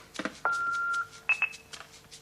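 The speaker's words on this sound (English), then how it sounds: "Would you please leave a message after the beep?" A pair of sustained electronic beeps, the second higher in pitch, with short clicks around them, like an answering machine signalling to record.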